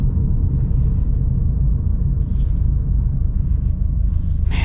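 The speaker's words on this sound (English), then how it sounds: "world's loudest exhaust ever. It's so loud for how not fast it is." A loud, constant low exhaust rumble from a nearby Subaru STI Baja engine, droning steadily throughout with no speech.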